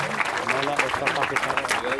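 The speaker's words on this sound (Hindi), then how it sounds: "एक बार जोरदार तालियों से स्वागत अभिनंदन करें" Audience applause welcoming guests at a foundation-stone ceremony for a girls' college, a short steady burst of clapping heard together with talking voices.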